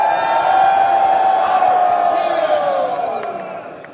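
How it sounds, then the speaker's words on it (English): Conference crowd at a KaratBars event in Amsterdam roars and whoops loudly, a sustained wall of cheering and yelling that slowly fades toward the end. "And our crowd goes wild!"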